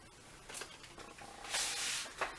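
A pet cat purring softly indoors, a faint low rumbling under a quiet room, with a couple of brighter rustling bursts partway through and no talking.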